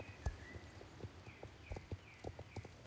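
Rhythmic clip-clop of a horse's hooves at a walk during riding in a western video game, with soft thuds and faint chime-like tones in the background, quiet and steady with no talk.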